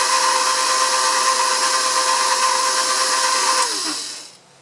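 An electric mixer whirs steadily through blueberry muffin batter with orange marmalade added, a loud, even motor drone that holds for about four seconds, then winds down and stops.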